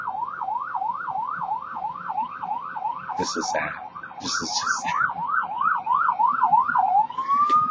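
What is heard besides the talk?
sirens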